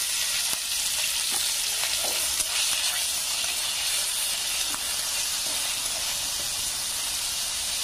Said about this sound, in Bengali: গোটা জিরে, এটা যখন ভাজা ভাজা হয়ে আসবে, এখানে আদা আর একটু কাঁচা লঙ্কা কুচি।